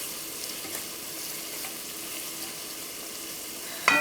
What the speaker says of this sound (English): I'm going to let that onion cook on medium-high